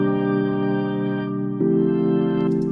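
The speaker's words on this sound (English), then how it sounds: "So if you have a really big pad without the volume, or the volume LFO, it sounds like this." A big, sustained synth pad of stacked chords made in Ableton, playing steadily with no volume LFO, shifting to a new chord about halfway through and ringing on alone at full level.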